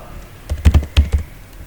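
A few quick keystrokes on a computer keyboard, several close crisp taps clustered together in a short burst, with no talk over them.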